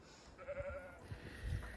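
A sheep on a farm gives a short bleat over quiet outdoor background, one brief wavering call followed by low rustling; no talking.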